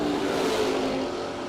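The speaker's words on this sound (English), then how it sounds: "That's a supercharged small block." A supercharged small-block Chevy engine in a wagon drag car at a no-delay drag racing event, droning steadily and loud at mid pitch, sustained throughout with no voices.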